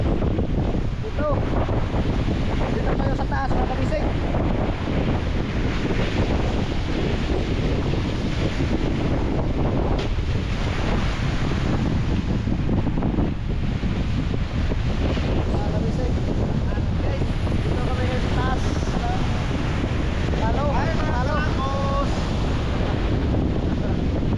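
Strong wind buffets the microphone over rough, whitecapped sea waves off Mindanao, a steady loud roar with surging surf throughout and faint voices in the background.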